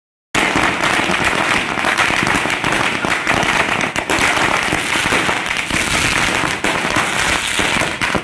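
Fireworks and firecrackers set off by ruling party workers celebrating an election win crackle and pop continuously and loudly, a dense unbroken barrage of rapid bursts lasting several seconds.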